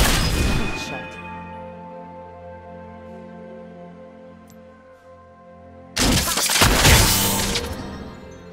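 A sharp gunshot-like burst from Caitlyn's headshot in League of Legends, a loud crack near the start followed by a quieter lull with steady game tones, then another loud cluster of impacts toward the end.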